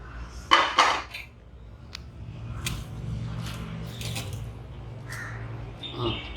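Cooked semiya vermicelli being drained from a metal pot in a home kitchen, with sharp clanks and scrapes of the pot and utensils at the start, then softer pouring and rattling sounds.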